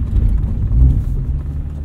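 A 2022 Subaru BRZ on Falken Winterpeak F-Ice 1 tires ploughing through about five inches of deep, wet snow slush, heard as a brief, steady low rumble.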